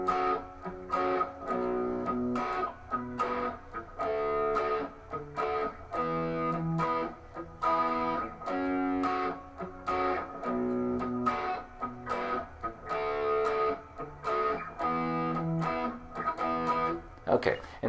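A distorted electric guitar strums a choppy, syncopated rhythm of short chord stabs with a slightly gritty tone, steady and fairly close throughout; a rhythm from a rock song.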